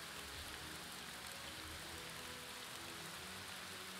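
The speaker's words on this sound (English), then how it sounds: "And it's raining too all the time." Steady rain falls in the fantasy strategy game Battle for Middle-earth II, during an Age of the Ring campaign mission in Rise of the Witch-king. It is a faint, even hiss that runs unbroken from start to end with no voices.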